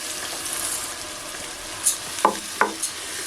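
Orzo sautéing in a pot sizzles quietly under a few sharp scrapes and knocks of stirring near the end.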